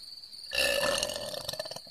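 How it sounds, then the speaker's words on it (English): A female cartoon character lets out one long, rumbling burp that starts abruptly and fades into a rough, crackling tail, heard alone against a faint tonal background. "it's just a burp"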